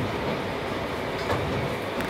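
The 485 series Hana tatami excursion train runs on the Senzan Line after leaving Yamagata station, with a loud continuous rumble of wheels on rails and faint rhythmic clatter under it, heard from on board.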